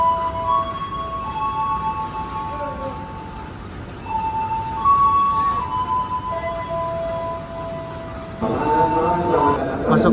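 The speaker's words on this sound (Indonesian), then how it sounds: "Masuk kereta api Malabar dengan tujuan Malang." Inside the Malabar passenger train bound from Surabaya toward Malang, a steady rail rumble runs under sustained metallic squeals and tones, with faint clinks and busy crowd noise rising near the end.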